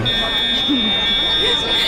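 A store fire alarm sounds in Canada as a loud, continuous high-pitched electronic tone that holds steady throughout, with people talking underneath.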